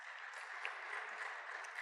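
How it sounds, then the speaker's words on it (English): Audience applause closing a panel session at an Africa Day 2025 event, a steady even wash of clapping from a crowd, moderately faint and continuous throughout, with no voices on top. "give one round of applause for our panelists"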